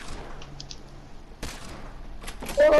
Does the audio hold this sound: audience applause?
no